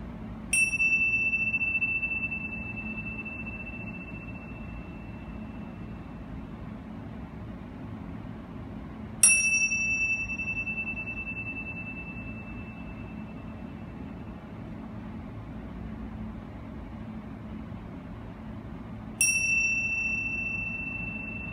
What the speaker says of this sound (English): So I will ring the bells 3 times, and your only job at the start is to listen.